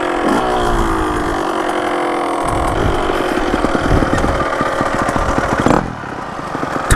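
Dirt bike engine, a 125 two-stroke or 250 four-stroke on a track, kick-started and running loud and close, steady throughout with a brief dip near the end.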